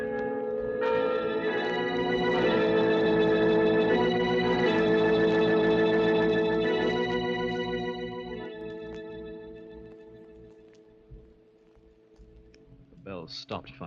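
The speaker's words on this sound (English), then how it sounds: "You bought those bells, now let them ring your requiem." Church bells toll a requiem in a radio murder drama, ringing loud and sustained for several seconds before fading, with voices heard near the end.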